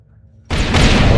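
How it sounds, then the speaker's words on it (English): A nuclear reactor explodes in the physics sandbox game People Playground: near silence breaks abruptly into a loud, sustained blast that keeps roaring without any speech. "That's the reactor explosion."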